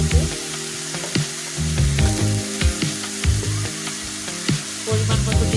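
Cut, washed potatoes fry in a pan of oil, a steady bright sizzle punctuated by irregular scraping and stirring knocks, close and fairly loud, with no talking.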